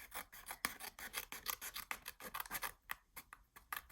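Paper being trimmed for a Christmas accordion scrapbook mini album, heard as a steady run of quick, close raspy cutting strokes in an uneven rhythm, with no voices.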